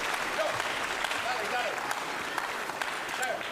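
A crowd applauds at a European Championship table tennis semifinal, steady dense clapping throughout with a commentator talking over it.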